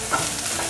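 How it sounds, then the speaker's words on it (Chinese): Shiitake and enoki mushrooms with dried tofu stir-fried in a hot pan, a brief steady sizzle with soft scraping of the turning ingredients, close and alone. "放入香菇还有金针菇，豆干也一起放进来，赶快翻炒"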